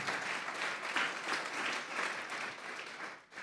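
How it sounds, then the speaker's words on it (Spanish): A church congregation claps during a service, a steady, fairly quiet burst of applause that holds for a few seconds before dipping near the end. "Démosle un fuerte aplauso pues al Señor esta tarde"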